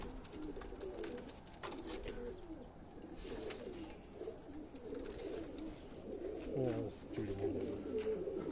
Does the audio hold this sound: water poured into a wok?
no